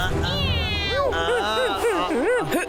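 A cartoon cat meows in a run of wavering, drawn-out cries, one after another, loud and close. A human voice does the meows, imitating a cat.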